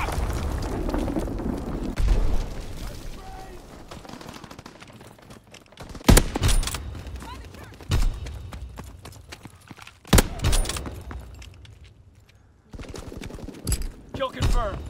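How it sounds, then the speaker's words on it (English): Bomb explosions and gunfire in the World War II shooter game Call of Duty WW2: several sharp, loud blasts stand out from a constant rumble of battle, with a few quieter shots and crackling in between. "Enemy bomb incoming."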